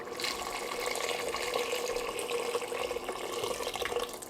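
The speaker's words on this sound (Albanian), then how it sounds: "Edhe do t'i hudh ujin e nxehtë." Hot water pours into a creamy flour mixture in a steady, close stream, with a continuous splashing rush that lasts the whole time.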